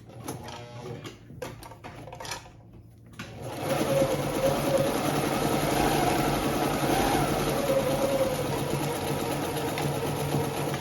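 A vintage sewing machine sews a zigzag stitch: a few soft clicks and pauses, then a steady, close mechanical whirr with rapid needle chatter that runs unbroken to the end.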